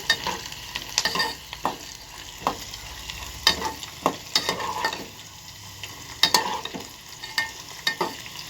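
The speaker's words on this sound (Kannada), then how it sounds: "ಈಗ ಒಣ ಮೆಣಸಿನ್ಕಾಯಿ ಹಾಕ್ಕೊಳ್ತೀನಿ ಇದು ಸ್ವಲ್ಪ ಚೆನ್ನಾಗಿ ಹುರ್ಕೊಳ್ಳೋಣ" Dry red chillies frying in a pan for huli gojju, a steady sizzle broken by repeated sharp scrapes and knocks of a spoon stirring against the metal, close and fairly quiet.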